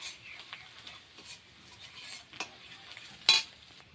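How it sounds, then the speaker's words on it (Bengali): Ground chili, coriander and cumin powders fry in a pan with a soft, quiet sizzle, broken by light scraping stirs and one sharper clink of a utensil against the pan near the end. "মরিচের গুঁড়া, ধনিয়ার গুঁড়া আর জিরার গুঁড়া দিয়ে আমি ভালোভাবে নাড়াচাড়া দিয়ে ভেজে নিব"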